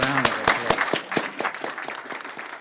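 An audience at a state board of education meeting applauds a speaker, brisk close claps over a thinning crowd wash, with a voice briefly audible at the start.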